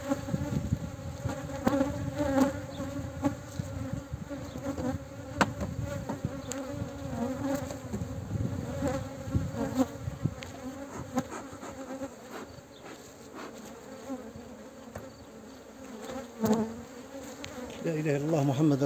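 Honeybees hum in a steady, dense drone around an open hive, loud and close throughout with small swells in intensity, no voices present.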